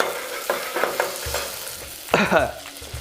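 Fresh mint is tossed into a frying pot and stirred, giving several close scraping stir strokes over a soft sizzle, with a louder burst of stirring toward the end.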